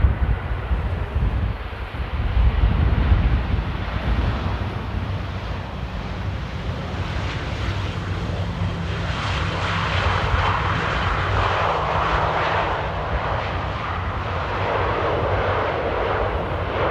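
An airliner at Amsterdam Airport, its jet engines giving a broad, steady rumbling roar that swells and lingers for many seconds at moderate distance, with light wind noise and no talking.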